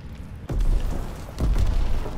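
Grenade explosion in Call of Duty WW2: a loud, close, deep boom that hits suddenly and rumbles on, with a second heavy burst following about a second later.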